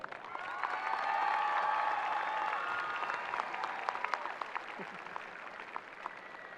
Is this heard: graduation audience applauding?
yes